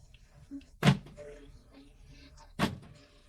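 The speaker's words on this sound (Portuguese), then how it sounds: "Por exemplo, o travamento das portas." Electric door locks on a Kombi camper van with a newly installed alarm actuate with two sharp mechanical clunks about two seconds apart, close and fairly loud over a quiet interior background.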